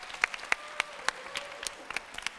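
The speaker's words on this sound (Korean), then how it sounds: "박수." Sparse, scattered hand claps from a church youth audience of middle-school students at a Korean youth-group sermon, about a dozen separate claps over a quiet room with a faint tonal hum.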